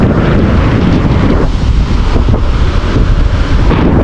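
Strong sea waves surging and churning continuously, a loud roar heavily buffeted by wind noise on the microphone, with no voices.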